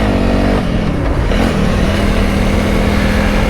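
A Honda CRF300L motorcycle engine runs loud and close on a rural Danish road, its steady drone holding with a slight dip and rise in pitch as it moves off.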